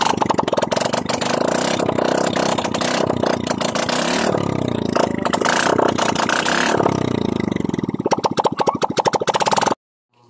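A Yamaha Mio 125 scooter engine runs after a top overhaul with a new standard cylinder block, revving up and down loudly and steadily with mechanical clatter, close by, before cutting off abruptly at the end.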